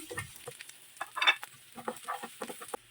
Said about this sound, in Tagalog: Lagyan na natin ng sibuyas. Okay, idagdag na rin natin itong bawang. Halu-haluin.